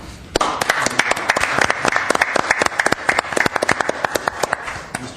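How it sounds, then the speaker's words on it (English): Applause at a city civil service commission meeting: close, loud, sharp individual claps from a small group, dense at first and thinning into scattered claps toward the end. "I think the participants deserve a round of applause"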